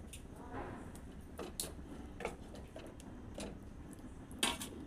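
A metal lid set on a pot of bata fish simmering in mustard sauce, heard as several light clinks and taps of cookware at close range over a quiet kitchen background.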